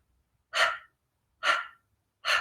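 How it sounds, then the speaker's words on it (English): Three sharp, forceful breaths are exhaled through the mouth with the tongue out like a panting dog, evenly spaced about a second apart with silence between, close and clear during a yoga breathing exercise. "if you're panting like a dog with your tongue out"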